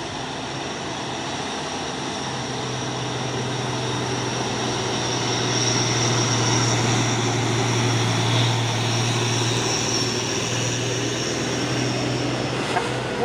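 A Hino box truck's engine labors steadily as it climbs uphill during a truck race, a sustained low drone that grows louder and nearer before easing slightly near the end, with no speech.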